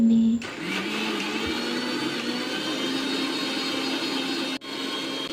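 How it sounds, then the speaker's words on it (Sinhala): A kitchen blender whirs loudly while blending coconut milk for breadfruit curry. It starts with a brief jolt, runs as a steady high whine, and then cuts off near the end. "ඔන්න ඉතින් දැන් බ්ලෙන්ඩර් කරන්නයි හදන්නේ"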